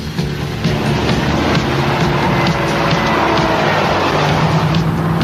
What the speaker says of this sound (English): Your pulse quickens as the exhilarating 5-liter V8 comes to life